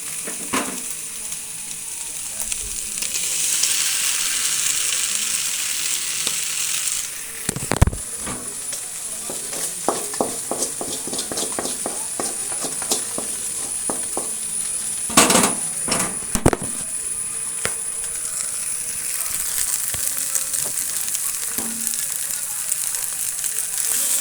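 Onion and noodles sizzle steadily in a hot pan while being stir-fried, a constant close frying hiss broken by occasional sharp knocks and scrapes of the spatula.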